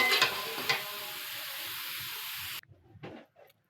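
Egg korma masala sizzles steadily in a pan while being stirred, with a couple of scraping strokes near the start; the frying hiss cuts off abruptly, leaving a few faint clinks.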